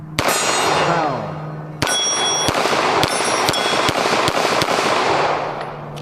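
A CZ-75 semi-automatic pistol fires a string of sharp shots, most answered by bright ringing clangs from steel targets, loud and close. A voice briefly exclaims.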